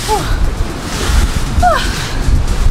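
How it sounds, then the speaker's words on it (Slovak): Strong Antarctic wind roars loudly and continuously against the microphone, with gusting buffets and a few brief whistling tones over the rush. "lebo ten vietor je strašne silný"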